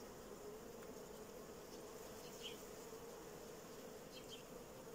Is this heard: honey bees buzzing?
yes